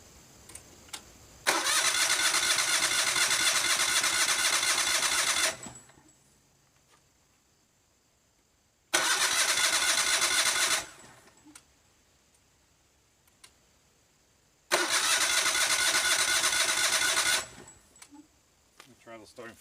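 A Yamaha EF12000DE generator engine cranks three times without catching. Each starter burst runs a few seconds, loud and rhythmic, with quiet gaps and faint ticking between attempts.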